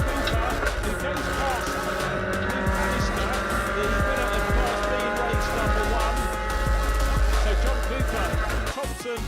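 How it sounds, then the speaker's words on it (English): Racing cars roar around a circuit during a race, with engines droning steadily and tires squealing now and then as the field runs in the early laps, under an announcer's continuous commentary. "Thompson from 5th on the grid, but it's JJ Ross that leads in the early stages"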